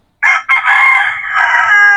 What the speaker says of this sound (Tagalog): yung pula manok